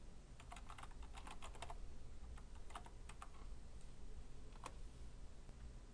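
Quick bursts of keyboard typing, light rapid key clicks in clusters with short pauses, close by and fairly quiet over a faint hiss.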